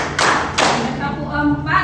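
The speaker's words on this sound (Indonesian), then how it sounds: "Tepuk satu, tepuk dua, tepuk tiga," A class of students clapping in unison during a counting clap game, with a few sharp, loud group claps between a teacher's spoken counting.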